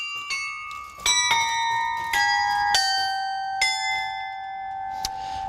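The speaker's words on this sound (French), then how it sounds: "un carillon c'est une sorte de piano à cloche dont on va remplacer les cordes du piano par des cloches" Carillon bells ringing inside the Calais belfry, a sequence of bright, resonant strikes descending in pitch with long overlapping sustain, close and clear, with no voices.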